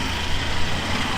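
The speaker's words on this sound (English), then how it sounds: "These are the tuk-tuks." Tuk-tuk engines idle and rumble on a Phnom Penh street, a dense, steady low drone of motor traffic with no talk.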